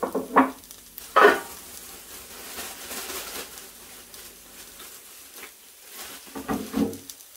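Naked Glory sausages frying in a pan, giving a soft, steady sizzle with a few louder crackling bursts and clatters of cooking utensils, heard close and fairly quiet.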